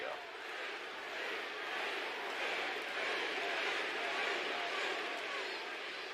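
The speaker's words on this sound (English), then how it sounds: "I think the crowd's saying, sing, sing" A wrestling arena crowd at WWE Raw chants and roars as a steady, distant wash of massed voices, played back at moderate volume.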